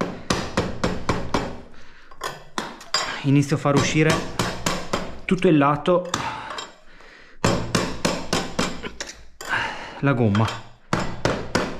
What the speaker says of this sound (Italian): adesso pian pianino a colpetti di martello di gomma